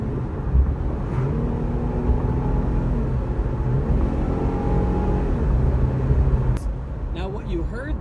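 A Cadillac CTS Sport's engine drones and climbs under load while accelerating in second gear, its pitch rising and dipping as the automatic transmission shifts, heard from inside with a voice speaking over it.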